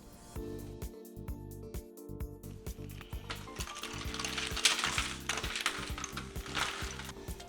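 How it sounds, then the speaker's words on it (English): Cinnamon-sugared pecans tumble and clatter from an air fryer basket onto a parchment-lined baking sheet, a busy run of sharp clicks and rattling taps, loud and close, with a few scraping pauses. "take them out the air fryer and put them on this baking sheet that I have lined with parchment paper"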